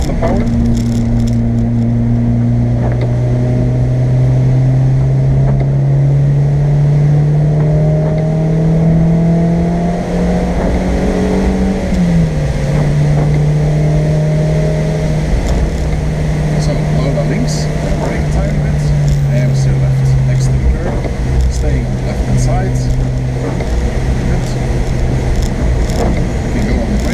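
A car drives the Nürburgring Nordschleife in the rain, its engine droning steadily and rising in pitch as it accelerates, easing off midway and then pulling again, heard close from inside the cabin while a voice keeps talking over it.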